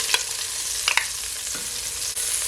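Onions and tomato sauté in a pot with a steady, close hiss of frying. A few brief scrapes of stirring break through the sizzle, and no one speaks.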